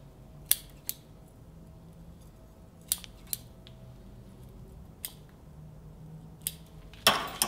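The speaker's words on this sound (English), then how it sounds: "I can start to cut back on the branches that are way too long." Bonsai shears cut back overlong branches on a blue atlas cedar, a few sharp separate snips spaced out over quiet, closing with a louder double clip.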